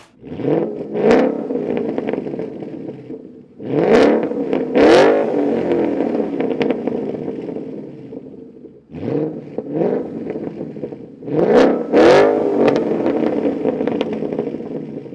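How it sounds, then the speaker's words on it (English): A Ford Mustang GT with a Borla Attack cat-back exhaust revs hard in four loud bursts, each snarling rise followed by a rumbling idle between them, with no talk. "I decided to go with the Borla Attack here, which got a strong 5 out of 5 on my Wake the Neighbor scale, and here's what it sounds like"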